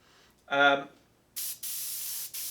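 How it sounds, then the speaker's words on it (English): A steady hiss of an Iwata HP-CH airbrush with a MAC valve spraying air in two bursts, the second longer, following a short spoken word. "here is one of my airbrushes. This is my preferred airbrush."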